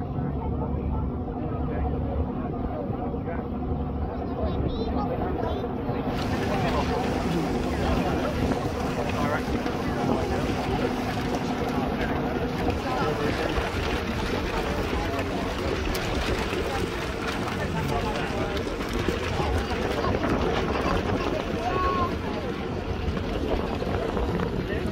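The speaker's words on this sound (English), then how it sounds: "Next step is the ferry from Plymouth over to Saltash" Wind rushes over the microphone alongside the steady rumble of a ferry's engine on the crossing from Plymouth over the water to Saltash, continuous and fairly loud throughout.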